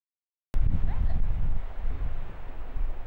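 Wind buffeting a microphone outdoors while a small beginner drone is flown: after a brief silence, loud low rumbling gusts roar and flutter continuously, close and heavy, with faint voices in the background.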